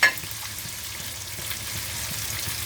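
Prawns stir-fry with fingerroot and kaffir lime leaves in a hot pan, giving a steady close sizzle with a sharp opening burst and faint stirring movements underneath.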